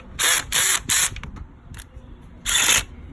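A power gun set low runs down valve cover bolts on a 2002 Acura RSX in four short whirring bursts, three in quick succession and one after a pause, with faint clinks between.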